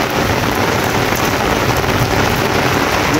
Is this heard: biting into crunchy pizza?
no